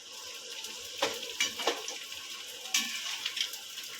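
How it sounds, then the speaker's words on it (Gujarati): Edible gum (gond) fries in hot ghee, a soft continuous sizzle with crackling bursts and a few stirring clinks, close and fairly quiet, with no voices. "1 ચમચી ગુંદર તળશું"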